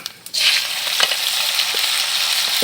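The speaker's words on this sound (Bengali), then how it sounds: "আমাদের তেল গরম হয়ে গেছে এবার আমরা জিরে দিলাম শুকনো মরিচ দিলাম" Cumin seeds and dried chillies hit hot oil for khichuri, bursting into a loud, close, steady sizzle that hisses on without a break, no talking.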